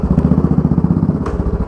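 A motorcycle engine putters loudly up close with a rapid, rhythmic beat, and a couple of sharp knocking clatters break through as it is braked with the clutch pressed.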